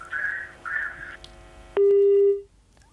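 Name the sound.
telephone call disconnected tone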